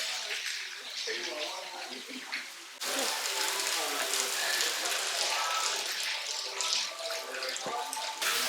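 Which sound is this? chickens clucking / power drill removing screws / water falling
water falling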